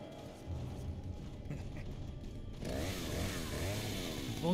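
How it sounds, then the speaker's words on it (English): A chainsaw-wielding enemy in the Resident Evil 4 video game, its motor running with a continuous revving buzz that swells louder partway through and stays steady to the end, with no talk over it. "Oh, that's a chainsaw guy down here now."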